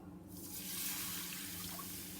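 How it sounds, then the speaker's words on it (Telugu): Water runs from a tap in a steady, close rush that starts softly and swells to a full stream, heard alone. "చూడండి, నేను ఇట్లాగా నీళ్ళు తీసుకున్నా"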